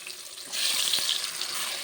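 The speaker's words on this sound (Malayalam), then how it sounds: "അയല മീൻ നല്ല മസാലക്കൂട്ടുകളൊക്കെ പിടിച്ച് വന്നിട്ടുണ്ട്. നമുക്കിനി അത് വറുത്തെടുക്കാം." Masala-coated mackerel fries in a pan with a steady hissing sizzle that swells louder partway through and then holds, close and continuous.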